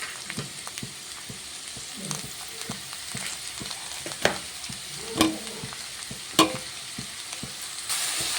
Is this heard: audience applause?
no